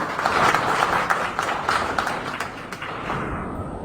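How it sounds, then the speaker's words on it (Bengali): Audience clapping at a book publication festival, dense applause from a crowd congratulating writers and poets, loud at first and gradually thinning out over a few seconds. "আর একবার একটু করতালির মাধ্যমে অভিনন্দন জানাই"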